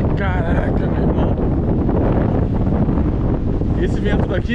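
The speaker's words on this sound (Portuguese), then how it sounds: "Esse vento daqui, galera, que vem daqui, ó, nessa direção, é o vento sudoeste." Heavy southwest wind at a beach blows hard and constantly against the microphone, a thick low roar with faint voices or tones barely poking through, at Praia Grande, Arraial do Cabo, Brazil, during a storm swell.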